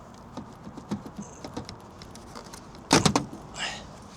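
Rear light on an Audi A4 B8 Avant being pulled hard off its two retaining studs: small scattered clicks and taps, then a loud sharp cluster of plastic snaps near the three-second mark, followed by a softer scrape.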